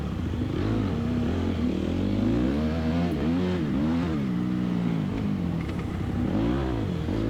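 Dirt bike engine revving hard through deep ruts on a motocross track, a loud, continuous buzzing roar with rapid rising and falling pitch sweeps as the throttle opens and closes, close to the rider and with no talking.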